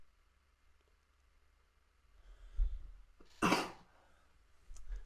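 A single sharp, close cough bursts out from an ill commentator at a Pokémon trading card game regional championship match, preceded by a soft throat-clearing rumble in an otherwise quiet room.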